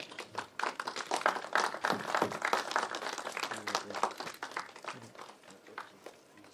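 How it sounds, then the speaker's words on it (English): Lively applause from a film festival audience, dense overlapping hand claps building and then thinning into scattered claps, fairly quiet and somewhat distant. "Ladies and gentlemen, please give them a big round of applause"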